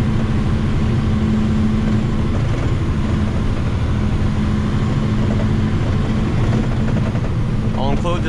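A tandem dump truck's engine drones steadily and loudly from inside the cab while driving, a constant low rumble that persists throughout with no break.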